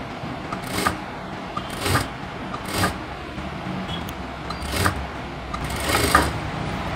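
A sewing machine stitches a blouse in short mechanical bursts, about five runs of whirring stitches separated by brief pauses, close and steady with no voices.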